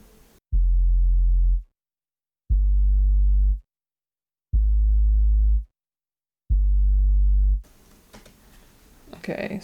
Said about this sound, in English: This is very, very simple. It is a sine wave.